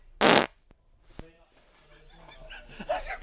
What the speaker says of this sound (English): That's a KFC fart.